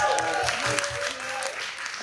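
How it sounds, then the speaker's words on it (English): Crowd clapping for a cultural programmer introduced at a live Windrush Legacies conversation event, steady applause with some voices underneath, moderately quiet. "Round of applause."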